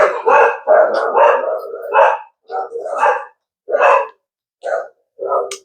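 Several household dogs bark loudly and close by in a kitchen, a rapid run of sharp barks followed by spaced single barks with short pauses between.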